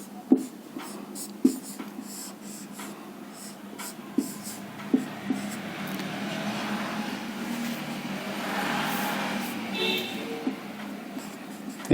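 Marker or pen writing chemistry formulas on a board during a lesson, a series of sharp taps and strokes at irregular intervals over a faint background hiss, with brief quiet stretches and no clear talk.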